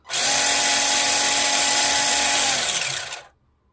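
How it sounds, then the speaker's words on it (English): A small Mabuchi brushed electric motor in a vintage Tamiya Fox RC buggy whirs at a high, steady pitch for about three seconds, close and loud, then winds down quickly to silence. "I cleaned up the old Mabuchi motor"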